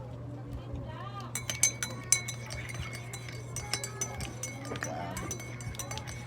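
A spoon clinks repeatedly against a glass while sugar is stirred into Nescafe Gold coffee, several sharp close taps in an irregular rhythm over a steady low hum.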